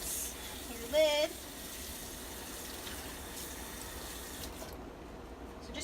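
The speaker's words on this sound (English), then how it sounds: "Go ahead and rinse your lid." Water from a tap runs steadily over a pot lid as it is rinsed during kitchen cleaning, a constant close hiss with a brief higher tone near the start.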